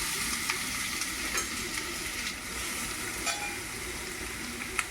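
Grated carrot dropped into a pan of crisp-fried dry fruits for carrot halwa, giving a steady, close sizzle and frying hiss with light stirring scrapes throughout, no talking.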